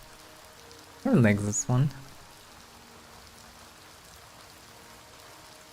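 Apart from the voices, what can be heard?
rain falling at night in video game Oblivion Remastered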